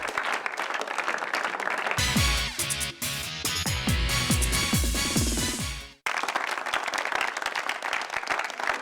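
A studio audience claps in dense, even applause at the start and end, with a loud burst of music cutting in between.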